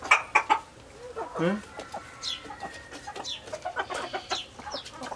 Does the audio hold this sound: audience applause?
no